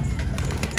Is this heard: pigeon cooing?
yes